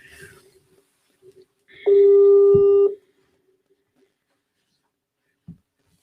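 A telephone line connecting on air gives a single sustained tone about a second long, followed by silence and a faint click, with a short bit of voice at the start.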